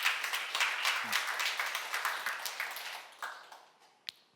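A church congregation at a Bible seminar breaks into a short burst of dense, crackling applause. It starts loud, then thins and fades over a few seconds, ending with a lone sharp clap.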